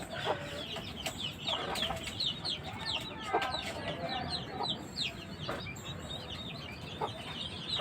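Chickens cluck repeatedly in short bursts, close by and fairly soft, against a quiet farmyard background at night.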